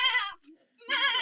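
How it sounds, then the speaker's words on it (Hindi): A goat bleats in a village home setting, with two wavering nasal calls separated by a short gap, close and fairly loud. "बकरी"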